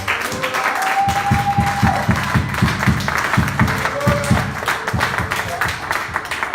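Church congregation clapping together in a steady rhythmic beat, fairly close and loud, with voices and background sound mixed in throughout.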